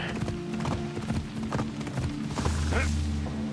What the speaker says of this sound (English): Suddenly the horse slows down